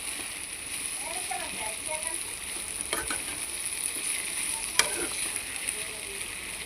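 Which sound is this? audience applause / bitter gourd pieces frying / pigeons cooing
bitter gourd pieces frying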